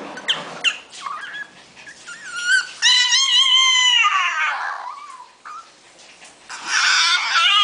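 A Yorkshire terrier whimpers and whines in a series of high, wavering cries, some drawn out and sliding in pitch, close by and fairly loud.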